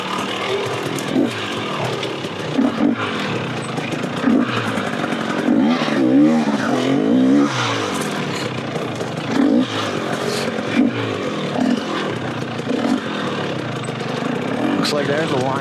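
A two-stroke dirt bike rides an Arizona trail, heard from the rider's position, its engine buzzing and revving in rising and falling surges with clattering over rough ground, while a rider talks now and then over the noise.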